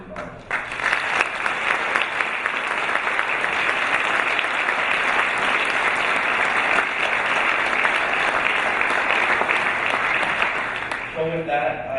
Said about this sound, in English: if we could give one more round of applause to each of those winners